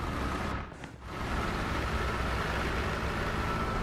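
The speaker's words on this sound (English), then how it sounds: "Slightly different engine sound from the last time I've driven a BT." Steady, dense engine rumble of a BT-7M tank in the War Thunder video game, running continuously with a brief dip in level early on, no voices.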